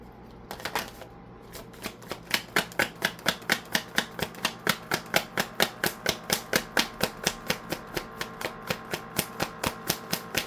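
A deck of tarot cards is shuffled steadily, with dense rapid riffling and flicking that settles into a regular, even rhythm of sharp card snaps, close and loud throughout.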